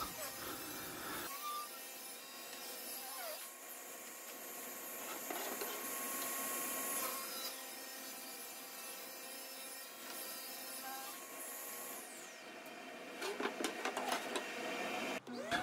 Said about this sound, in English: Then back to the table saw to rip the boards to their final width.